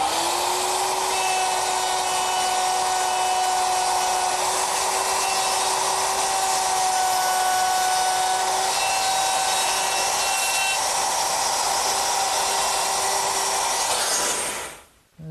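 A wood router fitted with a guide collar cuts a hinge mortise in a Shaker wood box, giving a loud, steady, high whine that runs close and uninterrupted for about fourteen seconds before spinning down.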